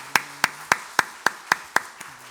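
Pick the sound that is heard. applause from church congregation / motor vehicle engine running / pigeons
applause from church congregation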